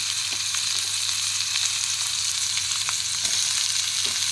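Chopped tomato and salt frying in a kadai for kadai paneer, a loud continuous hiss of sizzling oil with occasional faint clicks of a spatula stirring, close and steady throughout.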